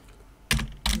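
Two sharp clicks of keys being struck on a computer keyboard, close and distinct, separated by a short pause over a quiet background.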